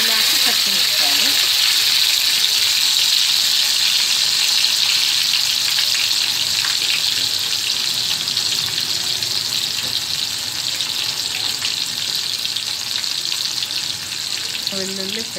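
Onions and green chillies frying in a tempering of seasoning seeds for a tomato curry, giving a steady, loud, close hiss that runs unbroken throughout with faint background voices.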